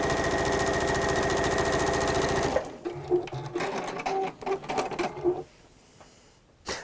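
A sewing machine stitches fabric in a fast, even, close mechanical chatter for about two and a half seconds, then stops, followed by scattered clicks and fabric handling noises.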